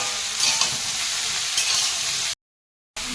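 Steady sizzling of food frying in a hot pan, with a brief scrape or stir, then a short silent gap before the sizzle resumes.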